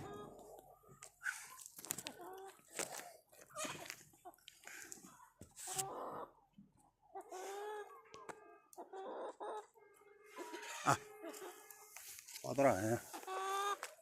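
Roosters in a cockfight, clucking and squawking in sharp bursts amid scuffling and flapping, with people talking throughout.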